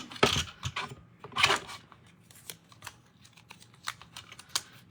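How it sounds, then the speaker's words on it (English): A small paper trimmer slices a thin sliver off card stock, with two brief sliding cuts followed by a series of light, close clicks and taps. "I'm going to trim off a little bitty piece off the top of this."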